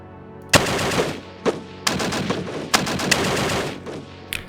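Gunfire and artillery from an attack in the Ardennes Offensive war game Decisive Campaigns, sharp loud bursts repeating every half second or so, each followed by rattling decay, alone without talk.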